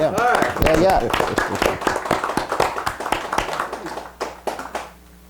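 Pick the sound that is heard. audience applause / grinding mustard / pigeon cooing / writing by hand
audience applause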